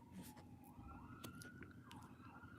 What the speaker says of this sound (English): Do you hear that? Sirens.